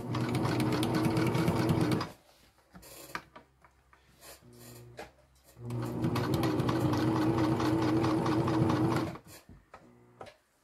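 A sewing machine stitches a bar tack behind the buckle of a homemade food and bear bag, running in two long steady bursts of close, loud whirring with short quiet pauses and faint handling between them.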